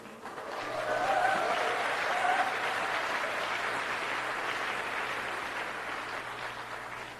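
Sustained audience applause at a Korean motivational talk, steady dense clapping swelling after the first second and holding loud throughout without speech.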